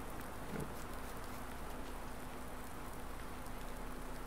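Rain in Farming Simulator 19 falls as a steady, even hiss that fills the whole stretch, with a few faint droplet taps and no voices.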